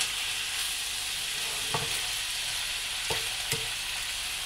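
Ground meat filling with corn sizzling in a frying pan for stuffed peppers as it is stirred, a steady fry hiss broken by a few distinct scraping stirs near the end.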